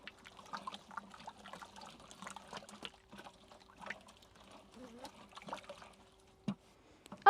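Organic fertilizer of fresh cow dung, jaggery and gram flour is stirred by hand, giving soft, quiet sloshing and trickling sounds with a few wet splashes and a low hum underneath.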